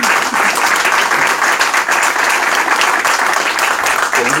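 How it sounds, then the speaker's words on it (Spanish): An audience applauds Mr. Beltrán with dense, steady clapping that fills the whole stretch at an even loudness, a broad crowd sound with no gaps. "Yo creo que el señor Beltrán merece un aplauso de nosotros"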